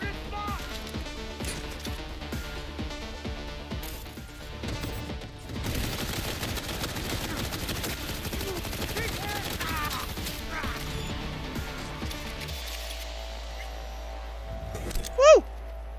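Gunfire in the video game Cyberpunk 2077 rattles in dense, rapid bursts that keep going through most of the stretch, with crashes mixed in and game music and effects underneath before it cuts off near the end.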